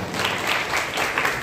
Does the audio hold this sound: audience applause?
yes